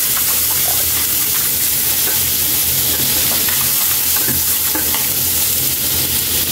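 Star margarine melting in oil in a pan, a loud, dense sizzle with crackling pops running continuously, close up.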